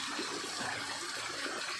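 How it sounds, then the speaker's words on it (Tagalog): Mountain water rushing down in Zambales, near where a sea meets a river, a steady broadband gush that holds even and continuous throughout with no talking. "Pakita natin yung tubig galing bundok."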